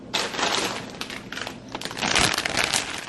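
Crinkly plastic packaging rustles and crackles close by in irregular bursts, loud and busy throughout.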